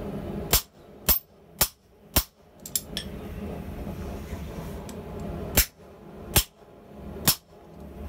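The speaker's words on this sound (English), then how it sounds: "I'm using flat dies to fuller the ends to make them easy to twist." Steel rod ends being fullered with flat dies under a hammer at the forge, sharp ringing metallic strikes spaced about half a second to a second apart, loud and close, with a quieter stretch in the middle.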